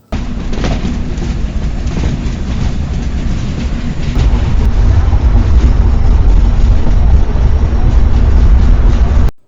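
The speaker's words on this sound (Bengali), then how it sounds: "আমাদের ট্রেনটা এখন হচ্ছে যমুনা সেতুর উপরে আছে" Chitra Express train crossing the Jamuna Bridge on the Chuadanga to Dhaka run, a loud continuous rumble and rattle of wheels on rails heard from inside the carriage, steady throughout.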